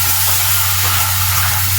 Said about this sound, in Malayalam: ഒന്ന് നമുക്ക് ഇതിലേക്ക് പാൽ ഒഴിച്ചെടുക്കട്ടോ.